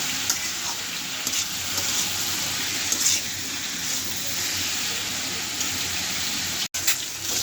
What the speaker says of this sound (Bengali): ডিম ভাজিটা হয়ে যাচ্ছে